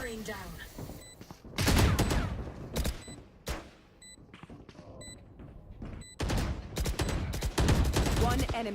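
Gunfire in the video game Valorant during a Game Changers SEA match, bursts of rapid shots and single cracks in clusters with pauses between, loud and close, with game interface beeps and a brief voice.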